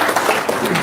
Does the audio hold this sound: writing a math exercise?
no